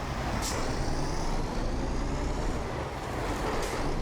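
Truck in a driving video game rolling along with a loud, steady engine drone and road rumble, two brief hissing bursts like air brakes breaking through.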